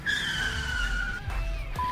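A Nissan Sentra skidding through a sharp high-speed right turn from the left lane, a drawn-out tire squeal over a low rumbling engine, followed by a brief thump and a thin tonal screech near the end.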